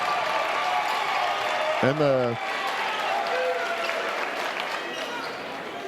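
Wooden Shoe fans in a high school boys basketball gym roar as a steady crowd din that stays loud throughout, with a brief burst of announcer speech over it near the middle.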